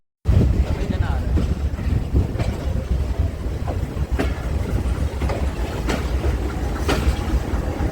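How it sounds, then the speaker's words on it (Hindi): The Allama Iqbal Express, an economy class train, rumbling toward Lahore Junction station, heard from on board as a continuous low rolling roar with heavy wind buffeting and faint rhythmic wheel knocks, voices faintly present. "इस वक्त हमारी train Lahore junction railway station पे अप्रोच कर रही है।"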